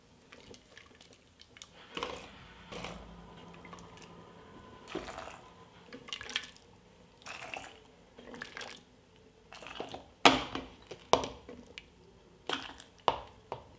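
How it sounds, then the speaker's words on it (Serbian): Cooked beans and their cooking water poured into clean glass jars, with soft wet squishes, drips and sloshes, plus a few sharp clinks and splashes near the end, close and quiet. "U čiste i oprane tegle sipat ću pasulj i sipat ću i vodu u kojoj se kuvao"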